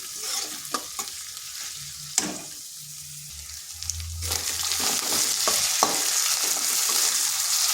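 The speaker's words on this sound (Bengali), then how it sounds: "এগুলো একটু ভেজে নিচ্ছি যাতে আদা রসুনের কাঁচা গন্ধটা চলে যায়" Ginger and garlic paste frying in a pan for a prawn malai curry, with a steady sizzle that swells louder partway through while a spoon stirs and taps the pan, close and with no voices.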